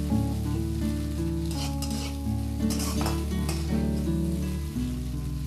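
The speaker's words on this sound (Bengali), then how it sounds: "ডিমটা ভালো করে ভেজে নিতে হবে" An egg frying and being stirred in a pan while making Maggi noodles with peanuts gives a loud, steady sizzle under scraping stirs and light pan clinks, with no talk.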